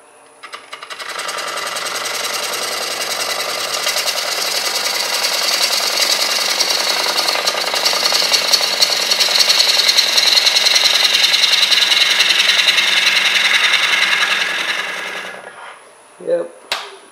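Woodturning tool being sharpened on a grinder, a steady loud grinding hiss lasting about fourteen seconds, then stopping with a couple of brief knocks.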